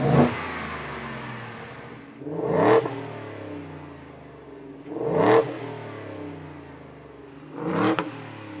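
A 2021 Ford F-150 with the 5.0L V8 and a supercharger revs through a Corsa Sport exhaust: three loud, sharp throttle blips a few seconds apart over a steady rumbling idle, with no talking.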